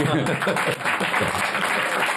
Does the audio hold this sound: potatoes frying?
no